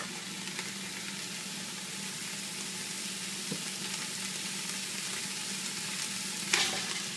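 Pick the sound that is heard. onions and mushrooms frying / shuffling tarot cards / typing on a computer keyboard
onions and mushrooms frying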